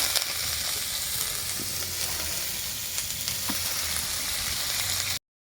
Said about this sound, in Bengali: গাজরটা ফ্রাইড রাইসের জন্য ভাজছি